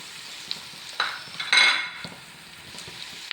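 Pork being stirred in a pan with coriander, chilli and pepper powders, giving scraping and clinking spoon-on-pan strokes with a faint sizzle, louder around the middle and alone without talk.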